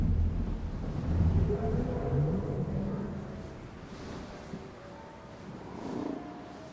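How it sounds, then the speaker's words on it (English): Rolling thunder from a storm building in the Outriders video game, a low distant rumble swelling and fading under quiet ambience with no talking. "Got some kind of storm brewing."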